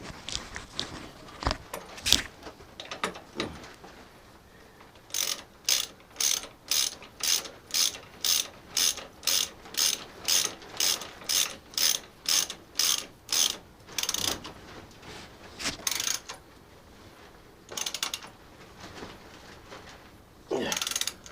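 Rapid ratchet clicking while tightening a part on a Cub motorcycle, heard as a long steady run of sharp, close, evenly spaced clicks, with a few scattered clicks and clunks before and after.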